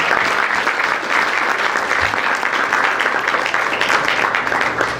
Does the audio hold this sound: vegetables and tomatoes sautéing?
no